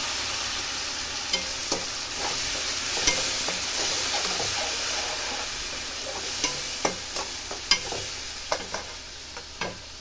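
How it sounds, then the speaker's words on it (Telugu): Tomato and mint paste frying in oil with a continuous close sizzle, broken by scattered scraping taps of a spoon stirring the pan. "మనం పుదీనా పచ్చిదేసాం కాబట్టి కొంచెం ఒక 5 మినిట్స్ ఫ్రై అవ్వాలి"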